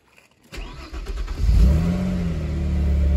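An Opel Calibra V6 engine, just fitted with a new crankshaft sensor, cranks briefly and then catches, settling into a steady, loud close-up idle with no talking.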